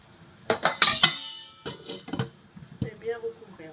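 Rice being tipped into a metal couscous steamer pot, heard as a quick cluster of clanks and clinks from the pot, then a second short burst of clatter, ending with faint kitchen handling noises.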